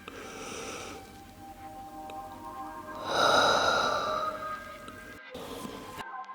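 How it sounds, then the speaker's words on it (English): Slow, deep yoga breathing with a drawn-out breath near the start and a louder, longer exhale or inhale in the middle, close and soft, with no talking. "Nice deep inhales and exhales."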